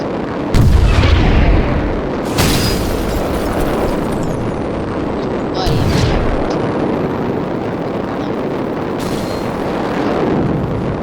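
Missiles or torpedoes exploding in the aerial combat game War Wings, loud booming blasts one after another over a dense roaring rumble of battle noise, with several sharp impacts spread out across the stretch.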